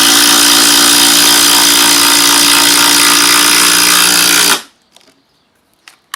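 A Makita power tool runs flat out at its highest setting on a 1.5Ah battery, a loud steady whine for about four and a half seconds, then cuts off abruptly, leaving a few faint clicks.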